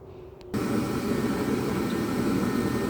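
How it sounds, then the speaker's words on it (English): A jet heater switching on and roaring steadily nearby, a loud broad whooshing blast that fills the space after a brief quieter moment, with no talk over it. "excuse the sound of my jet heater in the background."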